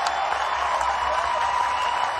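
A college baseball crowd at an NCAA tournament game between Creighton and Oregon State gives a player a warm ovation, steady applause and cheering filling the whole stretch from a distance.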